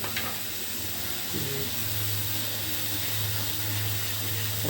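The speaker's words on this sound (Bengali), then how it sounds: "মশলাটা আমি এখন ভালো করে ভুনতে হবে।" Spices sizzle steadily in a hot pan while beef tripe is being cooked, a continuous close frying hiss over a low hum with no pauses.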